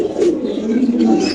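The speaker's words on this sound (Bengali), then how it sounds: "আমরা আরেকটা কবুতর আপনাদের দেখাচ্ছি" Pigeons coo steadily at a pigeon farm: soft, throaty, rolling low calls that overlap continuously and sound close and fairly loud, with no talking.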